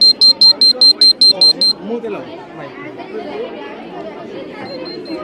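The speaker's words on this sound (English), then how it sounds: "So if anything is in front of it, it will start beeping" A motion sensor at a school science exhibition gives a rapid series of sharp, high electronic beeps in quick bursts, about eight in a row, then stops as indistinct voices and chatter continue.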